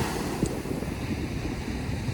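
Atlantic Ocean surf rolls in at the Outer Banks on a Friday morning, a steady broad roar of breaking waves mixed with wind buffeting the microphone, continuous and fairly loud with no talk.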